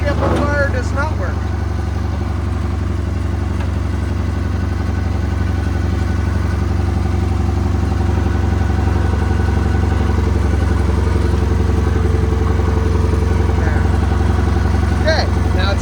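A 1975 International Harvester 666 tractor with a non-working torque amplifier drives along, its engine giving a loud, steady low rumble with a mechanical clatter throughout, while a person talks briefly near the start.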